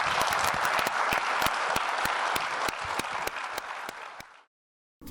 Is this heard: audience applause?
yes